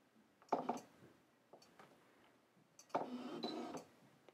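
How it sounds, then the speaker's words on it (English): A Fuji X-T1 camera lens grinds faintly as it focuses while resting on a table: two short bursts of soft mechanical whirring and clicking, quiet and close, with near-silence between them. "That noise you're hearing is the lens grinding on the table right now as it"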